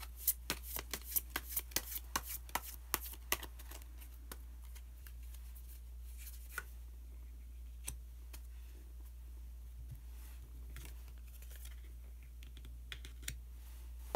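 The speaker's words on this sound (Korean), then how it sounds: "그러면은 카드 한 장을 더 뽑고" Tarot cards shuffled and drawn at a table, a faint run of quick papery riffles and taps, dense at first and then sparse, soft clicks over low hum with no talk.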